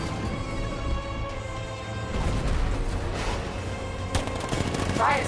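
Heavy cannon and gunfire blasts from an unmanned tank in the video game Batman Arkham Knight, booming over a dense rumbling battle mix with a sharp loud report near the end.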